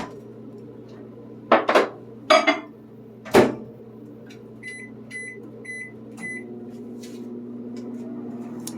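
A microwave oven heats Silk almond creamer: a few clunks and clatters, four short electronic beeps, then a steady low hum as it begins running.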